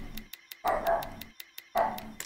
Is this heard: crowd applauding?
no